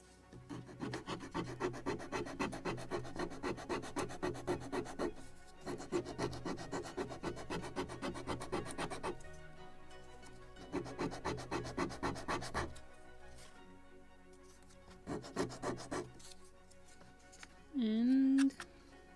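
Beveling a wooden part of a Model Shipways gunboat Philadelphia 1776 kit, rapid rhythmic filing or sanding strokes in several bursts with pauses between, close and fairly loud, ending with a short squeak.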